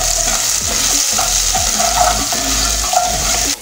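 Garlic frying loudly in a pan as the base for rice, a dense, steady sizzle and crackle close up with faint scraping underneath.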